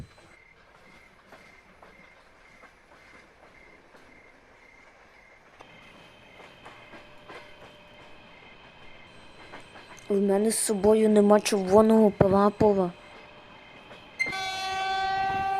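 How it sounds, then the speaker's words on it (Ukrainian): A 2ES5K passenger train approaches a level crossing, sounding a loud wavering horn in several blasts over rumbling rail noise, with someone speaking before and a higher whistle-like tone near the end. "Поїзд близько."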